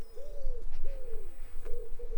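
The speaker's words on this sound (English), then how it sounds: "Wood pigeon?" A wood pigeon coos close by in an allotment garden, giving several soft, hooting notes in a repeating rhythmic phrase over a low background hum, with no one talking.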